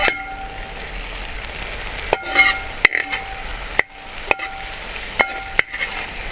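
Chopped onions and green chillies sautéing for a Kerala-style duck fry, a steady close sizzle broken by sharp spoon-on-pan scrapes and taps every second or so.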